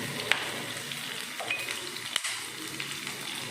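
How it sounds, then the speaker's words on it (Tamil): Mustard seeds and cumin sizzle in hot oil with a steady frying hiss and a few sharp pops and crackles spread across it. "கடுகு சீரகம் பொரிஞ்சதும்"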